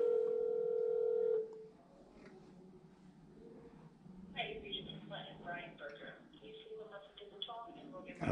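Telephone keypad tones as a number is dialed on speakerphone: a steady dial tone, then a run of short beeps in quick succession, fairly faint, with talk in the room.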